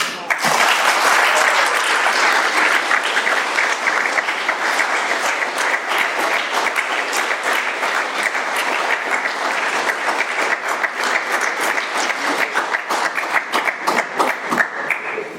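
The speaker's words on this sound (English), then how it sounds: "Let's give Karen another round of applause, that was fantastic" Audience at an Alcoholics Anonymous meeting in Florida gives sustained, loud applause, dense clapping holding steady throughout with a few scattered thumps and murmurs.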